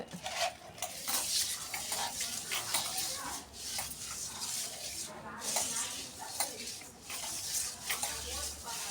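Fish being scrubbed with coarse rock salt in a bowl, making a steady gritty rubbing and scraping with occasional clinks against the bowl, continuous and close for the whole stretch.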